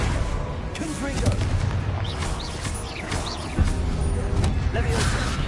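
Fiery Confringo blast spells bursting in Hogwarts Legacy combat, repeated booming explosions and crackling impacts amid whooshing magic effects, with a sharp thump near the middle and a voice speaking over the din.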